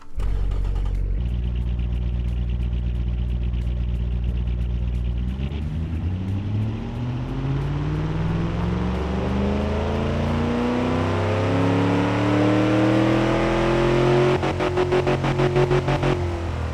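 A Hemi V8 engine in the Automation car-building game revs on a test run. It holds a steady loud drone, then climbs smoothly in pitch over several seconds to a high, strained rev, continuous and alone.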